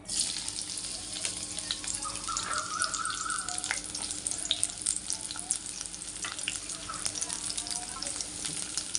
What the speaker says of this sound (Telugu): ఒక టేబుల్ స్పూన్ నూనె వేసాను అందులో ముందు ఉల్లిపాయలు వేయించుకుందాం